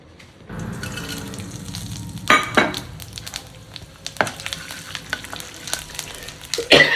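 Mustard seeds, cumin and chana dal tempering crackle and sizzle in hot oil, a steady close frying hiss broken by sharp pops and occasional stirring scrapes, louder bursts near the end.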